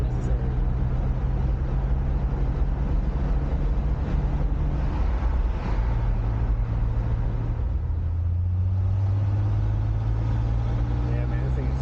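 A 1988 Pontiac Fiero engine humming low and steady while driving, with a deep droning rumble that shifts in pitch as it goes and people chatting inside the car.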